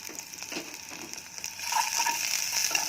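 Shallot and sliced garlic sizzle softly in a hot pan for Cantonese chicken, a steady crackling hiss that grows a little louder partway through, with no talking.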